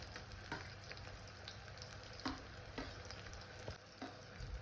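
Onion, garlic and chili frying in hot oil, a steady close sizzle with a few sharper crackles and stirring clicks, heard alone without talk.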